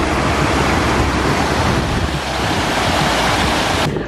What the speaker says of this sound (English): I am in heaven with this flowing water.